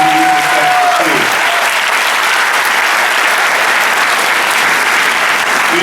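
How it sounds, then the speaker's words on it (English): Loud, sustained applause from a school audience at a National Elementary Honor Society induction ceremony, with steady crowd clapping filling the whole stretch after a brief tone at the start. "Let's give all the adults a big round of applause for helping you use this expertise."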